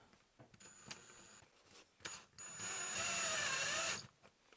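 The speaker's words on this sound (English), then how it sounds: "You can just screw these anchors right on in." Drill driving self-threading anchors into a wall while a dryer vent connector kit is installed, short bursts of whirring followed by one longer, louder grinding run that stops abruptly.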